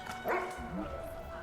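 A dog barks from a painting in Overwatch 2 during the Junkenstein's Revenge Halloween event, giving one short, sharp yip near the start that trails into quieter whimpering over a low game backdrop.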